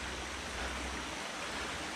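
Small stream rushing and splashing over rocks as it feeds into Pequea Creek, a steady broadband water roar close by with no voices.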